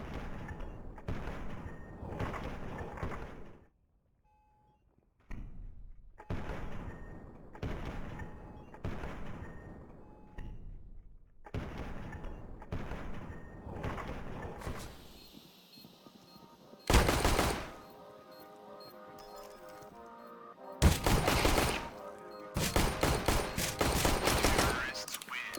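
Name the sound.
gunshots in a video game (Counter-Strike)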